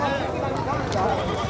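A goat bleats amid the busy bustle of an outdoor livestock market, with steady crowd chatter and someone talking close by.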